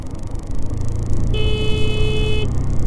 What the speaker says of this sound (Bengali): হর্ন মেরে রাখি ভালো করে।